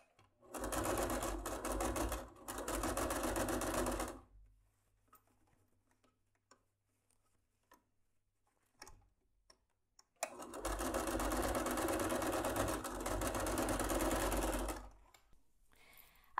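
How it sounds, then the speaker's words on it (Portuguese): A sewing machine stitches fabric near a zipper on a small lining-backed purse in two rapid, steady runs of close mechanical rattling, separated by a long quiet pause with faint handling clicks. "Vai fazer uma costura aqui para rebater perto do zíper e aqui também."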